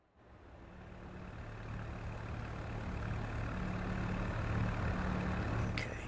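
In the racing game Assetto Corsa Evo, a car engine hums steadily at a low, even drone that swells in at the start and holds, with no voices over it.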